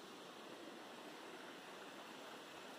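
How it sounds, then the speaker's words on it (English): Steady broadband rush of a waterfall beside a creek near a bridge, close and continuous with no voices over it. "look at the beautiful waterfall going across the bridge"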